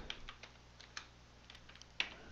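Computer keyboard keys tapped in a quiet room, a few scattered soft clicks with a sharper keystroke near the end, faint and close, no talking.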